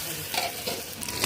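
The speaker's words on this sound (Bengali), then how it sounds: "আদা রসুন বাটাটা ভাজা ভাজা হয়ে আসছে" Ginger garlic paste fries in a pan with onions, bay leaf and whole garam masala for a beef curry, giving a steady close sizzle broken by brief scraping stirs.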